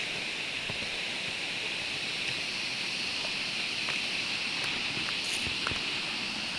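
A waterfall rushes in a steady, broad hiss after a typhoon, constant and moderately distant, with a few faint taps or footsteps scattered over it.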